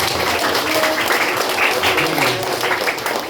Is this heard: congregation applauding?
yes